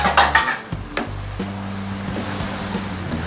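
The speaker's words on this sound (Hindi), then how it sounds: "अब इसको 1 मिनट तक हम मिक्स करेंगे।" Spoon scraping and clinking against a cooking pot while beef keema is stirred, a few loud metallic scrapes at first, then a softer steady sizzle and faint tones, close with no talk.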